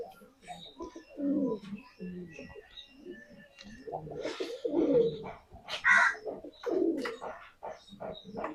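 Several large pigeons coo nearby in repeated throaty, rolling bursts, with overlapping calls and brief gaps between phrases.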